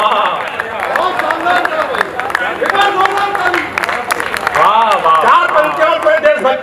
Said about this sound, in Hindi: तालियां बढ़िया